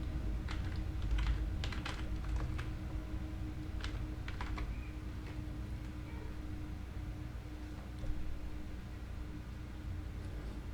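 Computer keyboard keys click in quick bursts close to the microphone as a search term is typed into a WordPress plugin search box, with pauses between short runs of keystrokes.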